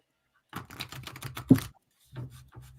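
A quick burst of soft, rapid clicking and riffling, close by, stopping briefly, then resuming for a moment.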